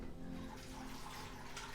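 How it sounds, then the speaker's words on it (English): Tap water runs steadily into a pot of apples, a continuous close splashing and rushing with no voices. "and then we're going to fill this with water"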